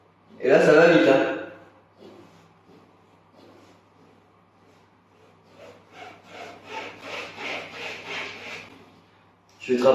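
A wire saw cuts through PVC pipe with a rapid run of rhythmic rasping strokes that builds in the second half, preceded by a loud burst of handling noise near the start.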